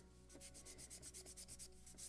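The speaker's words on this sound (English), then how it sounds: "slight sanding" Light sanding across the wooden deck of a model gunboat Philadelphia (1776), soft rhythmic rubbing strokes repeating steadily, close and quiet, with no voices.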